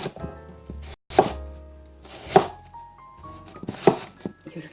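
A knife slices radish into thick strips on a cutting board, with three crisp chops spaced about a second apart against an otherwise quiet kitchen.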